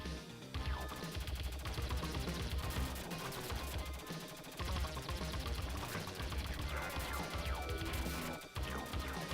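Rapid, dense Cobra Assault Cannon gunfire from the Robocop 2 arcade game, loud and continuous, layered over busy game music and crashing effects with no pauses.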